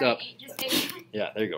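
In a precalculus classroom, someone gives one quick, sharp sneeze between bits of talk from a teacher and students. The sneeze is brief and moderately loud.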